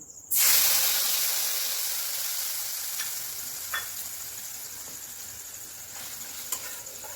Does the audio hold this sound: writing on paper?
no